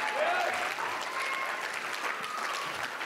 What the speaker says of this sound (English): Give another round of applause for these wonderful student performers.